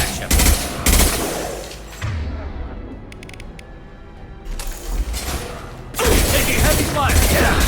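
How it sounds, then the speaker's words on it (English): Heavy gunfire in the video game Mass Effect 2: loud bursts of rapid automatic fire and mechanical clatter at the start and again near the end, with a quieter lull between, mixed with voices and game sounds. "Taking heavy fire!"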